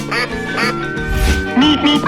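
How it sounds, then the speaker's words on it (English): A duck quacks in a 3D animal video game, a few loud nasal calls close up, with a voice speaking over them. "Duck."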